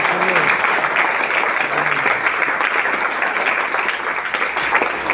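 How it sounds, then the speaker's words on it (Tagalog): A church congregation applauds during a sermon, steady crowd clapping that fills the room for about five seconds, with a faint voice briefly audible underneath. "Palakpak sa Panginoon."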